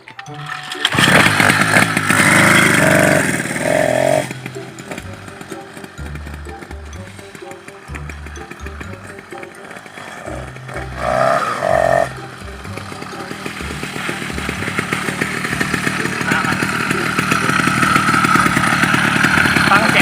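A small two-stroke motorized bicycle engine fitted with an exhaust tip buzzes and revs up and down, rising to a sustained high whine, with a voice speaking briefly over it.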